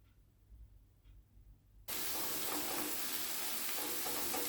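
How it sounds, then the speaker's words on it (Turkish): Ground beef is browned in melted butter and oil, with a wooden spoon mashing it: a few faint knocks in near-silence, then an abrupt, loud, steady sizzle of frying that continues close up. "Bir tahta kaşık yardımıyla kıymayı eze eze güzel kavuruyorum."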